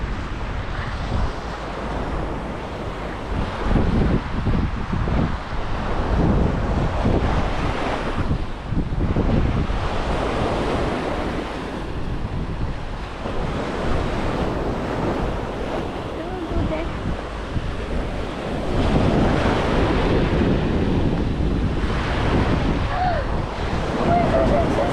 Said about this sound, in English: The ocean is beautiful.